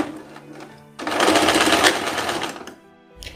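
A sewing machine runs in one sustained burst of rapid stitching on plaid fabric for women's trousers, loud and close, with quieter handling of the machine and cloth before and after.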